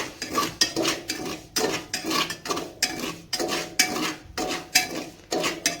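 Salt being stirred as it heats in a pressure cooker makes rhythmic gritty scraping strokes, about two per second, loud and close, with metallic rattles and no voices.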